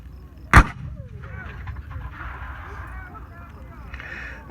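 A Union Civil War cannon at a Gettysburg re-enactment fires once, a sharp, loud boom that decays quickly. Open-air background sounds and faint crowd noise follow.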